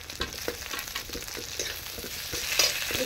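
Chopped tomato dropped into browned onions frying in a pan, a soft steady sizzle with repeated scraping strokes of a stirring spatula, quiet and close.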